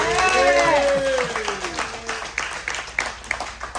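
An audience at an interview bursts into applause and cheering, a loud whooping shout giving way to scattered hand clapping that thins out over a few seconds.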